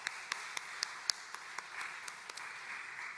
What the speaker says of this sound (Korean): 우리 감사와 또 우리 격려의 박수 하겠습니다.